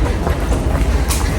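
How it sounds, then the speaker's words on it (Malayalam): A train at a station in Germany, a brief close rumble of rolling wheels with a low steady roar. "ട്രെയിൻ 9:03 വരും, 9:07 വരും"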